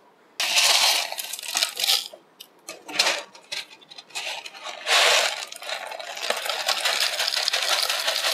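LECA clay pebbles poured into a plant pot with drainage holes, a loud rattling cascade of small hard pellets in bursts, starting and stopping, then a long steady pour near the end.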